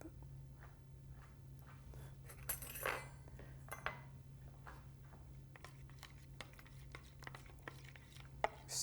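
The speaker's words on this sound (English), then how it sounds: "Stirring it up all together" A spoon stirs a mixture in a dish, giving faint, irregular clinks and taps against the sides over a steady low hum, with scattered brighter scrapes and no talking.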